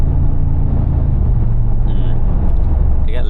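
A Mercedes G-Wagon Brabus 800 on the road, heard from inside the cabin: a deep, steady engine drone and road rumble that holds for several seconds.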